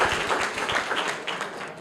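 Students in a school classroom clap for a classmate's correct quiz answer, a dense, continuous burst of many hands clapping at close range with no talking over it.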